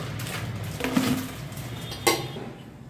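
Groundnut murukulu ingredients, including sesame seeds and salt, are stirred together in a bowl with a spoon, giving soft scraping and a couple of light metallic clinks, close and quiet with no talk.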